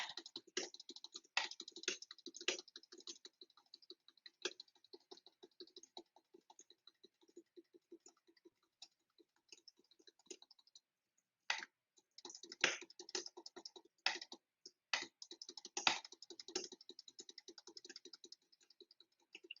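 Rapid clicking from a mouse or keys during multiplayer game grinding, fast irregular bursts of light ticks with a pause midway, fairly faint and close, no talking.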